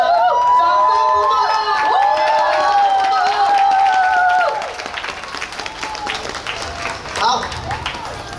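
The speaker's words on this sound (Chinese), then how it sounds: "再给我们点数， 掌声好吗？" An outdoor park audience at a DRUMILY percussion ensemble show in Taipei claps and cheers, loud and sustained at first under ringing tonal sounds, then thinning into scattered clapping and shouts.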